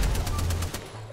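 Sniper fire in the Apex Legends video game: a rapid, loud burst of gunfire sounds in the game audio, repeated cracks packed into about a second.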